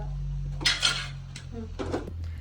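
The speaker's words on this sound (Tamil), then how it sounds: "ஓகே சிக்கன் எல்லாம் போட்டாச்சு இப்போ மூடி போட்டு சிக்கன் அவிய விட போகிறோம்" A lid is set onto a pot of simmering chicken curry, two short metallic clanks close by over a low, constant hum.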